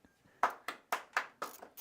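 A few sharp, close claps, about five in quick, slightly uneven succession, loud and alone with no talk.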